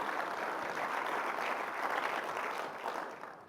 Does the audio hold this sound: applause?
yes